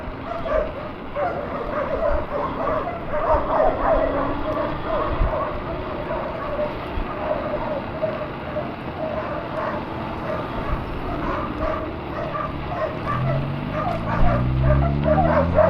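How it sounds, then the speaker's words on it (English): Many dogs bark and yip together in an alley during an early-morning e-bike commute. The barking is close and repeated over the whole stretch, with whimpers and passing street noise underneath. "Lots of dogs. Lots of doggies."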